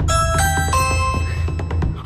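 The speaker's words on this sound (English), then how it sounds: "Oh yeah, a doorbell." A doorbell chimes a couple of clear ringing tones in a short, close burst, with a voice briefly over the end.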